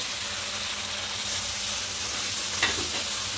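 Curry with ground coriander and salt being stirred and sautéed in a pan, a dense continuous sizzle with one brief scrape near the end.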